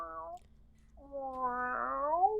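The ship's cat meows twice inside a spaceship setting from an Alien tabletop roleplaying session: a short, close mew, a pause, then a longer rising and falling call with clear harmonics over a low hum.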